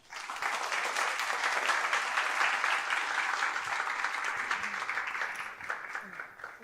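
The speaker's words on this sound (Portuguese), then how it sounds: "Recebam com uma salva de palmas." A theatre audience at a festival performance of the play Suindara breaks into steady, sustained applause that holds evenly for several seconds before thinning slightly at the end, with no voices over it.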